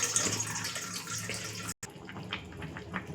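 Water pours into a pot of browned chicken and potato curry, making a broad splashing rush with a brief cut midway, then lighter bubbling and trickling, close and moderately loud.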